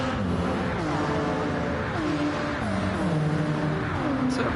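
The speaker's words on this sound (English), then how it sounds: "Look at that Ferrari's powering down here." Ferrari race car engine in a racing video game, a sustained loud drone with several stepped pitch shifts as it eases off, while a voice talks over it.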